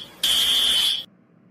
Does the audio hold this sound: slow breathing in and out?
no